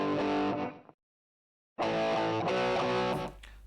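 A distorted electric guitar chugs a short riff with choked, muted chords, breaks off into a second of silence, then returns with the chugging pattern.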